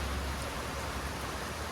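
Steady rain falls during a roadside stop on a car trip from Rajkot to Ujjain, making an even, dense hiss that stays constant through the short stretch.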